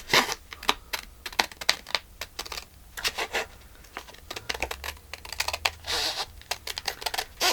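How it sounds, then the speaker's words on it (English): Scissors cut paper along a printed white line in rapid, crisp snips and rustles. The bursts come in irregular clusters at close range. "Got to cut right along the white line."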